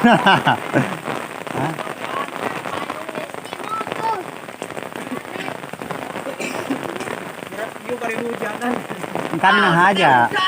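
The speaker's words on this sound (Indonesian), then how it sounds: "Udah hujanan." Rain falls in a village as a steady, dense patter on roofs and surfaces, with people talking and calling out over it throughout.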